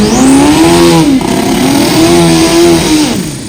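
A turbocharged motorcycle revs loudly and close at a bike fest, its engine note rising and falling in repeated throttle blips with a turbo whine over the top, no talk.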